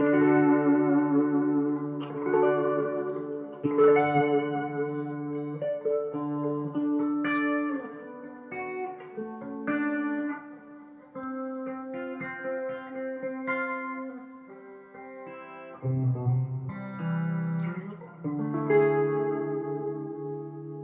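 A clean electric guitar on its neck pickup plays a melodic line of single notes and chords, with chorus, delay and reverb trailing each phrase.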